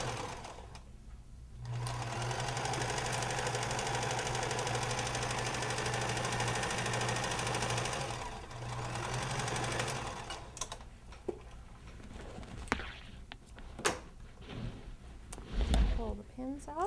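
A sewing machine back stitching along a mitten seam runs in a steady hum for roughly eight seconds, briefly pausing partway, then gives way to quieter handling clicks and knocks near the end.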